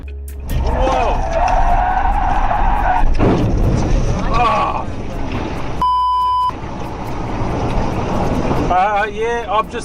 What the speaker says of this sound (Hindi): I've just crashed into a river, dude.